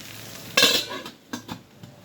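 A spatula scrapes and clatters against a pan of okra cooking over low heat, with a soft sizzle underneath and a few lighter knocks afterward.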